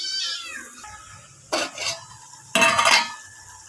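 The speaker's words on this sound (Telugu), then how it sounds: "ఇప్పుడైతే మూత పెట్టుకుందాం." A lid is set on a pan of frying chicken, making two short metallic clatters about a second apart, with a cat meowing softly just before.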